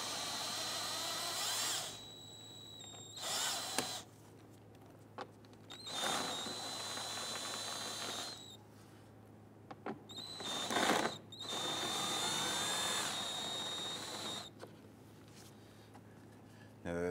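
Bursts of a power tool whir on and off several times as it loosens 5/16 bolts under a 2011-2019 Ford Explorer front wheel well liner, each run lasting a few seconds, close and clear, with quiet pauses between.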